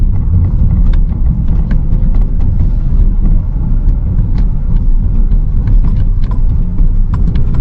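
A car descends a dangerous downhill road with blind curves in second gear under engine braking, giving a loud, continuous low rumble of engine and road noise with scattered faint clicks, steady for several seconds.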